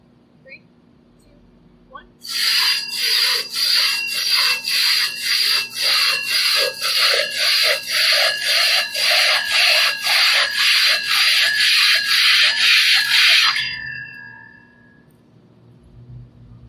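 A crosscut saw rips through a wooden log at a sawing competition, a loud, steady run of rhythmic back-and-forth strokes lasting about eleven seconds before stopping abruptly, with quiet surroundings on either side.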